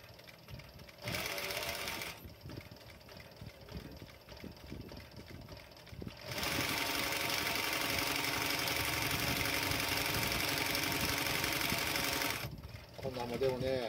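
A sewing machine stitches leather in a leathercraft workshop, running in bursts with a steady mechanical whir, starting and stopping several times including one long continuous run, with someone talking briefly between runs.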